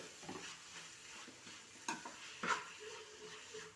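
Shallot paste being stirred as it fries in a pan for chicken fry, with a faint soft sizzle and a few scraping clinks of the utensil against the pan.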